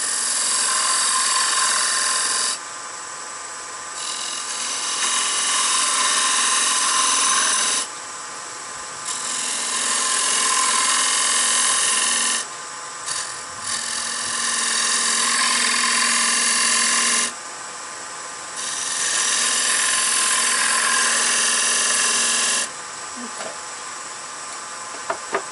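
Chamfers being cut into wooden toy wheels with a power tool, a loud whining grind that runs in several long bursts separated by short pauses, close by and without speech.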